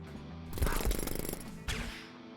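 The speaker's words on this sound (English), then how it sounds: "Guy is successfully hitting me with a jackhammer." A jackhammer wielded by an enemy in a video game strikes the player, giving a loud burst of rapid pounding hits over steady game noise, then a second sharp onset.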